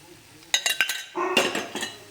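A spoon clinks and scrapes against a pan while stirring thick Mysore pak mixture of gram flour, sugar and ghee, a few quick metallic taps then a brief scraping rush, close and clear.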